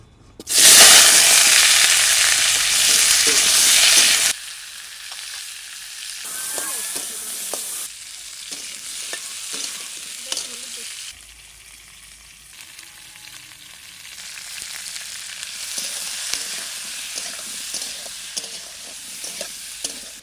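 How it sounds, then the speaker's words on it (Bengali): Chopped green tomatoes hit hot oil in a pan with a loud burst of frying and sizzling, then settle into a steadier, quieter crackle with scattered pops and occasional stirring clicks. "টমেটো কাটা আগে ভেজে নেব"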